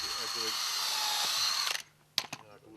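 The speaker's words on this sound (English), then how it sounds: "Drilling a lead hole reduces splitting of the wood and raises the withdrawal strength." A power drill boring a lead hole into wood for a nail, a steady loud whine for most of the clip that stops abruptly, followed by a few sharp knocks and clatters.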